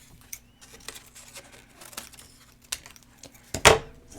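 Scissors snipping a scrap of paper for a craft embellishment, a run of small dry snips and crinkles ending in a louder crisp rustle, no speech.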